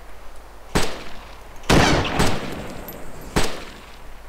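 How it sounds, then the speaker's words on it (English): Rifle gunfire in the video game DayZ: three sharp, loud shots spaced irregularly, the middle one a longer burst with echoing tail, over a quiet hiss. "Take the shot. I'm shooting now."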